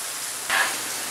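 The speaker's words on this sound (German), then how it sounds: "Das lassen wir dann nochmal 1 Minute ungefähr hier auf leichter kleinen Flamme brutzeln." Tomatoes and zucchini sizzle in a pan over a low flame, a steady close hiss like light rain with a brief swell of crackle partway through.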